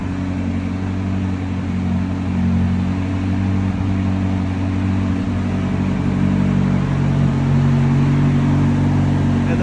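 A McLaren sports car pulling out to park, its engine giving a steady, loud, close droning hum with a low tonal rumble that holds without big revs throughout.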